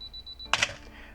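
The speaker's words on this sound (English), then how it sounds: "it's going to count down with beeping" A Canon AE-1 Program film camera's self-timer gives a run of short, evenly spaced high beeps, then a sharp mechanical shutter click and a brief clatter. It is close and clear with no talking.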